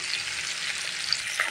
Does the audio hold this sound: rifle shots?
no